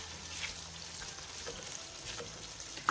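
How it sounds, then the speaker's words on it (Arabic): Onions softening in olive oil in a pan give a quiet, steady sizzle with faint crackles and one small stir clink at the end, close but low in level. "وهون البصل هيو دبلناه بزيت الزيتون"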